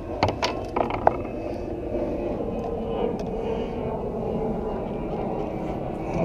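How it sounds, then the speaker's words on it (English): A jet aircraft passes overhead as a steady low broadband roar above open water near a fishing boat, with a few clunks and handling noises near the start. "Got a jet coming straight over my head."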